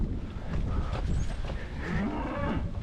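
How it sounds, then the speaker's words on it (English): Cows mooing on a hiking route, several long, loud, low calls close by, overlapping one another against outdoor background noise. "All these cows coming down here."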